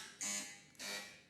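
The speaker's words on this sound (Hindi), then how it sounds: "अपना अपना बजर चेक करा दें।" Quiz buzzers sounding on a televised Ramadan iftar quiz show as teams check them, two short bright buzzer tones in quick succession, alone with no talk.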